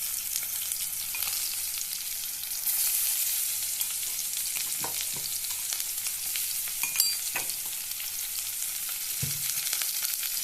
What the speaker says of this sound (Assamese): ইয়াত দিম মই ৰচুন আদা